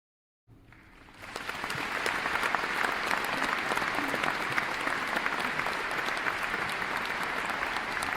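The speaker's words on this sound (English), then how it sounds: "please give a big round of applause for the cast of The Tempest" A theatre audience applauds the cast of a stage production of The Tempest: dense, steady clapping swells in after a brief silence and holds at full strength throughout, with no talking over it.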